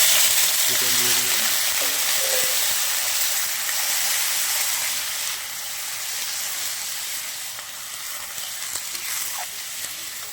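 Chicken pieces dropped into spiced masala in a hot pan, hissing in a loud, steady sizzle that fades a little after a few seconds, with faint stirring and brief clinks early on.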